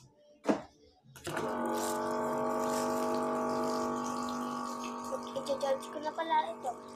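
Steady rush of running water fills a container for several seconds after a brief knock, continuing evenly with faint clatter toward the end.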